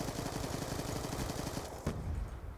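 Rapid automatic gunfire from an MSMC submachine gun in the PC shooter Black Ops 2 rattles in a steady burst, ending with a sharp single crack and fading game noise.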